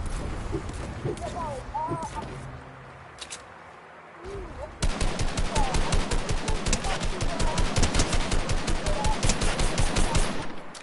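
Assault rifle fire in Fortnite: a sustained, loud burst of rapid automatic shots that starts halfway through and keeps going, with game effects and voices underneath earlier on.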